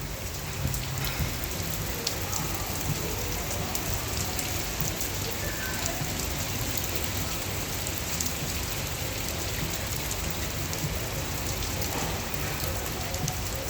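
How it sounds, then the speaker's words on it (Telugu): Heavy rain pours in Dubai, a dense continuous wash of drops striking the ground and nearby surfaces, steady and close throughout with no voices. "చాలా వర్షం పడుతుంది గైస్, చూడండి."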